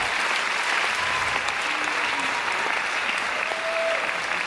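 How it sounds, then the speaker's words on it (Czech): Audience applause at a Christmas concert, a steady, dense clapping from a full hall that holds at an even level throughout. "Tak za vašeho potlesku Dušan Krástek ctí Vincentkou."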